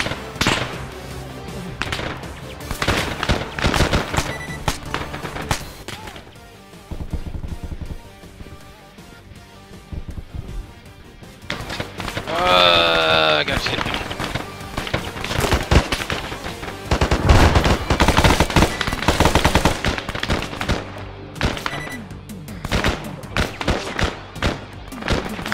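Rapid bursts of game gunfire in a military shooter, loud and close, come in clustered volleys with brief lulls between, a few spoken words slipping through the shots.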